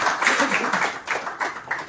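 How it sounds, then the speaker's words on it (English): Applause at the curtain raiser of Goa's first Cashew Fest for the chairman of GFTC, a fairly close burst of clapping that swells and fades in uneven waves over two seconds. "A round of applause."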